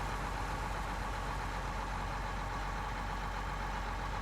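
Tractor engine idling in Farming Simulator 19, a steady low mechanical drone holding at an even level throughout with no talk over it.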